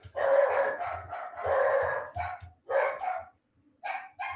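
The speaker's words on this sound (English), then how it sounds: "Damn dogs." Dogs barking nearby in a rapid run of loud, full barks, pausing briefly before a few more shorter barks, no talk.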